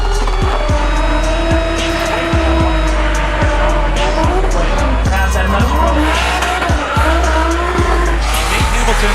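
Drift car held at full throttle in third gear during a pro drift competition run, engine roaring continuously with sustained tire squeal and repeated clattering bursts, loud and close throughout.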